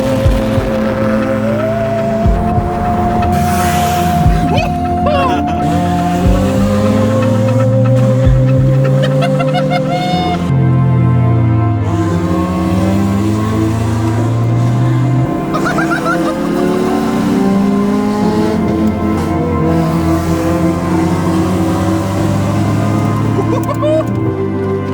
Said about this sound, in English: seeing 3 Civics passing me on the motorway, super loud, but not too fast